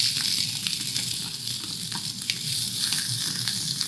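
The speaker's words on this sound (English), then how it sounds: "Again, you can hear that sizzle." Peppers for a plant-based noodle dish sizzle steadily in a hot pan, a continuous dense frying hiss with small crackles and pops scattered throughout, close and fairly loud with no voices.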